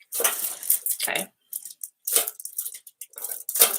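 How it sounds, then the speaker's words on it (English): Trash under a desk being rustled and crinkled in a series of irregular crackling bursts with short pauses, close and fairly quiet. "That's the sound of the trash under my desk."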